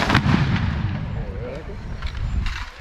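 Scattered musket shots fired at a Fort Velasco historical reenactment, loud booming reports in quick succession near the start with further irregular shots and rumbling echoes across the field, under a faint instructor's voice.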